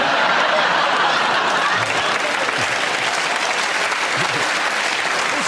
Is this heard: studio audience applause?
yes